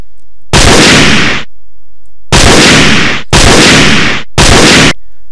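Four loud, heavy M14 rifle shots from a game sound effect, each a booming blast with a short tail, spaced unevenly with brief silences between them.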